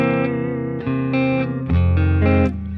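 Guitar run through effects rings out a half-diminished chord, the sustained, layered tones shifting through about four loud restrikes with no voices over them.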